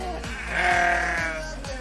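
Goats bleat while a flock runs home, a wavering drawn-out bleat rising in the middle over soft rhythmic hoof patter, fairly close and moderately loud.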